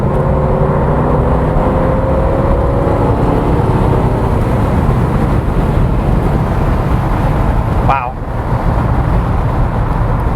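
A 1989 Corvette convertible, 22 years old, roars loudly and steadily as it accelerates, its engine drone blending with road and wind noise, with a quick shift-like sweep near the end.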